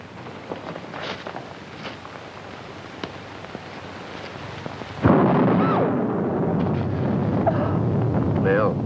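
Thunder rumbles in a 1940s film noir, rising to a loud, sustained roll that follows several seconds of softer, crackly ambience.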